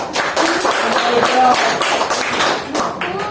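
Classroom students applaud a presenting group, a burst of quick, dense clapping from several people close by, lasting a few seconds with a faint voice underneath.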